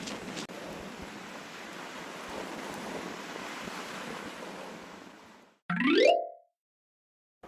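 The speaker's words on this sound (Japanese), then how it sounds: "これはうちの前の海です。 初日に比べると波は少し落ち着いてきたかなと思います。" Rough sea surf breaking steadily in front of a house on Chuuk, Micronesia, after Typhoon Sinlaku, with broadband roaring wash and wind noise for about five seconds before a short, louder handling noise ends it.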